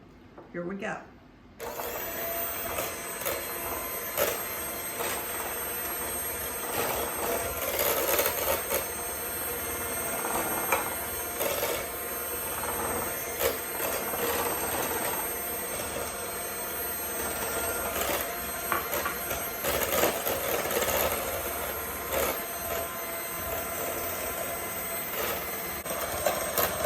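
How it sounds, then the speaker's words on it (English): Electric mixer whirring loudly and steadily as it beats chocolate cream pie filling, a continuous buzzing drone with scraping bursts, after a brief spoken word at the start. "I'm not going to be talking because of the sound at the mixer"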